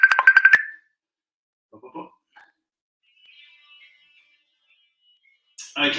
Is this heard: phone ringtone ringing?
yes